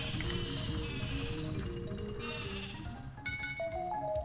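The Sleepy Sheep item from the Paper Mario video game: several sheep bleat in overlapping cries over a soft rhythmic patter, followed by a few bright chiming game tones at the end, with no talking.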